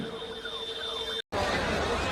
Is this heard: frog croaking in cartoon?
no